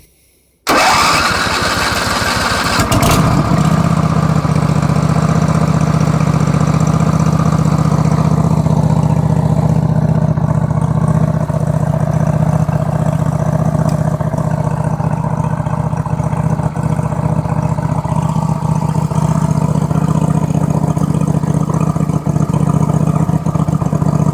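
A Craftsman truck engine with a dry carburetor and fuel pump starts on choke after a fuel system flush, catching almost at once and settling into a loud, steady idle close by.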